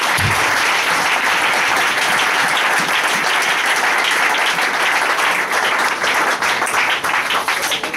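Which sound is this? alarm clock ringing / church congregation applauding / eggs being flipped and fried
church congregation applauding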